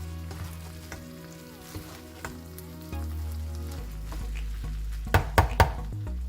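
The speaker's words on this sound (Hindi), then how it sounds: "फिर हम इसमें थोड़ा और चावल मिलाएंगे" Fried rice with vegetables sizzles and crackles steadily as a spatula stirs it in a hot pan for Chinese-style fried rice. A few sharp utensil clanks against the pan sound near the end.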